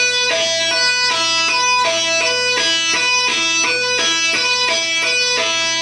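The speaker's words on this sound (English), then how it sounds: "you want to hammer onto the string and then push it off the fretboard" Guitar hammer-on and push-off notes are played on the second string, with pairs of clear plucked notes repeating in an even rhythm, loud and close with no talking.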